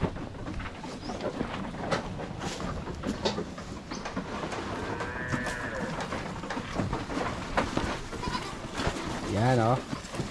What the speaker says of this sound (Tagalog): Yung mga kambing natin oh.